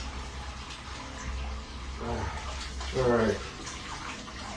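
Hands are washed under a running tap in a soap-making shop: soft steady water flow with splashing and rubbing that swells briefly, while a voice speaks a single word nearby.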